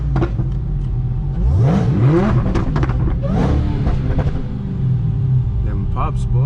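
A tuned Dodge SRT Hellcat rumbles and revs from inside the car, with brief crackling exhaust pops scattered through it while people talk.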